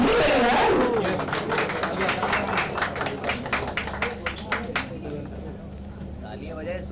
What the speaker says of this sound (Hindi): तालियां बजाए शूट करें यार